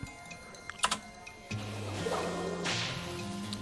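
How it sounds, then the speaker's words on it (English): A whip attack in a western video game lands with a sharp crack, followed by a brief swish. Game music and ambient sound swell up underneath and run on after the strike. "We gotta whip it."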